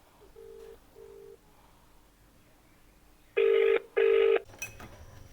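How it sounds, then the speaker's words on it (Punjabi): A phone rings twice with short electronic tones, quiet at first, then two much louder bursts follow, with no talking. "ਬੈਲ ਵੱਜਣ ਦੀ ਆ ਲੱਗਦਾ ਫੋਨ ਆਉਣ ਡਿਆ ਕਿਸੇ ਦਾ"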